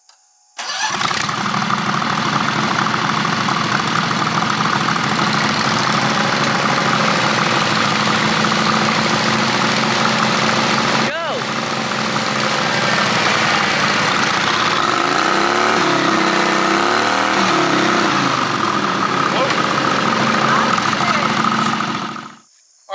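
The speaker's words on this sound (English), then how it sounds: "Start your engines." Riding lawn mower engines rumble loudly and continuously for a long stretch during a mud tug of war, their pitch wavering as they rev and strain, with a brief jolt midway before cutting off.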